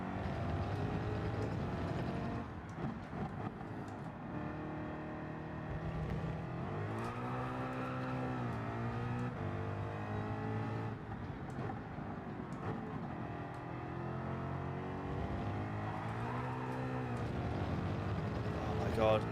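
A car engine drones and revs continuously while driving at Fuji in Gran Turismo 7, shifting pitch through gear changes and throttle swells, with a driver talking over the steady engine tone.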